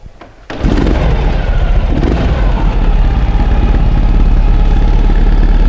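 A 2013 Ural Adventure Patrol motorcycle with an FMF 2-in-1 exhaust and muffler cranks over and fires up, then settles into a loud, steady, throbbing run close by with no one talking.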